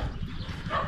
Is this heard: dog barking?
yes